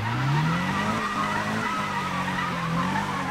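Car engine revving in Need for Speed (2016) on PC, a rising engine tone that holds at low speed in second gear, with tire squeal and skidding noise, fairly loud and continuous.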